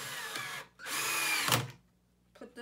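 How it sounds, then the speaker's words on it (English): A power drill drives screws into wood in two bursts, a short one then a longer steady run, with a brief whine at the end and a quick restart after a pause. "Align screws into leg holes and drill the screws all the way in."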